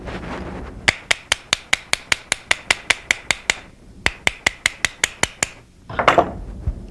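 Sharp, rapid taps of a padded hammer knocking a block off the front sight of a 1911 pistol, a run of about a dozen even strikes, a short pause, then six or seven more, close and crisp.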